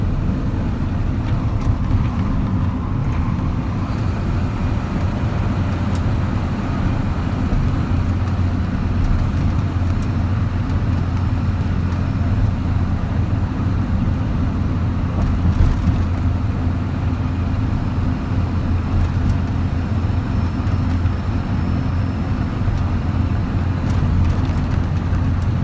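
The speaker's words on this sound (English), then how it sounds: "those pack car engines, they can be loud" A 2013 Kenworth T370 wrecker truck with a 350 HP Paccar PX9 engine drives along, a constant low engine drone and road rumble heard from inside the cab, steady throughout.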